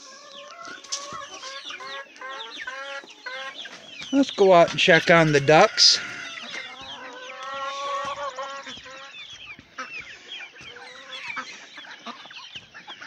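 A brooding hen sits on Ameraucana eggs in a backyard coop and clucks repeatedly, with a loud, dense burst of squawking in the middle. A person speaks briefly nearby.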